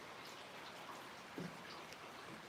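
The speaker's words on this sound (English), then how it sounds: "listen to the rain as it falls down." Faint, soft rain patters in the background of a thunderstorm, a quiet steady hiss with a brief low murmur partway through.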